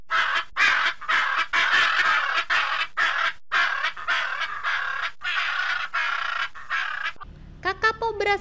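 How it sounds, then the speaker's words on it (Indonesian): A kakapo parrot gives a loud call: a long, rhythmic run of harsh, croaking squawks, about two a second, close and strong. A voice speaks briefly at the end. "Kakapo berasal dari keluarga burung beo dan merupakan burung yang memiliki suara paling keras."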